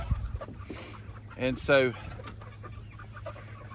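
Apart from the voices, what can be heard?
chickens clucking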